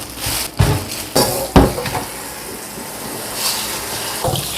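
Organic corn washed by hand under a running kitchen tap, with a steady splashing stream and a few louder sloshes and knocks, close and without talk.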